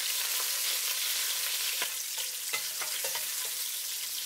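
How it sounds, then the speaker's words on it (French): Shrimp frying in hot oil in a pan over high heat, a dense continuous sizzle up close with scattered sharp spatters and stirring clicks. "Quand elle est chaude, je mets les crevettes."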